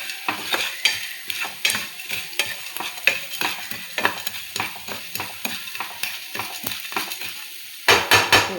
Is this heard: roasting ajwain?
yes